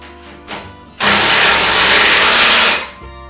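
An impact wrench runs in one loud continuous burst of about two seconds, tightening a shock absorber bolt on a 1994 Ford F-150, with quieter shop noise before and after.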